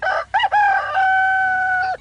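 A rooster crows loudly and close by, a short rising call followed by one long, drawn-out crow holding a steady tone until it fades.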